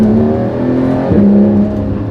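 A Porsche engine gives a quick rev blip over a steady idle-like hum, close and loud, the pitch rising and dropping back within a second.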